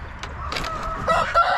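Black Americana chickens in a pen give short clucks and squawks close by, a few brief calls rising near the end over faint background noise.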